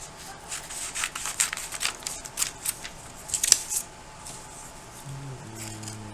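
Scissors snip through paper while cutting out traced circles for a paper pumpkin craft, a quick series of close, crisp cuts with light rustling of the sheet and no talking.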